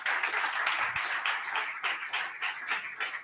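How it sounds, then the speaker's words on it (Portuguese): Church congregation claps and applauds together, a dense, steady wash of hand clapping throughout, moderately loud and without a break. "pode aplaudir a Jesus"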